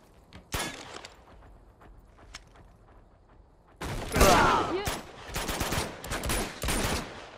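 Gunfire in Uncharted 2 as a lock is shot open: a single sharp shot, a few faint clicks, then a loud sustained burst of rapid shots and impacts in the second half.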